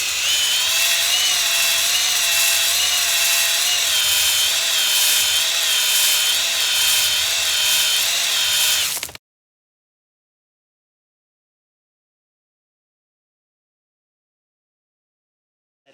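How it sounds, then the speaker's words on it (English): A power tool hones an engine cylinder bore in a block being prepped for a rebuild, giving a loud, steady, high-pitched whirring drone for about nine seconds before it stops abruptly into silence. "this is what I do when I'm just roughing the bore up, just honing it so you get a good seal on the ring pack."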